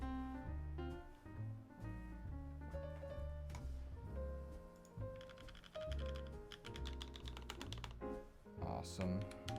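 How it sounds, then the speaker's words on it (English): Typing on a mechanical keyboard fitted with top-mounted Cream switches on a brass plate gives rapid, irregular clacks in quick bursts, close and clear, with a voice talking underneath. "Just quick typing test before we do any of this coding."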